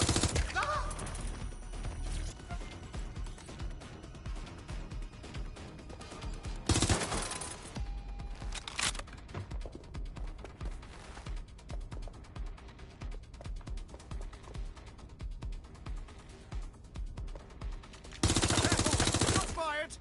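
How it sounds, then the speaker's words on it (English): Dense bursts of automatic gunfire and single shots from the Watch Dogs video game rattle on almost continuously for twenty seconds, with heavier blasts near the middle and end, loud and busy with no clear pauses. "Shots fired!"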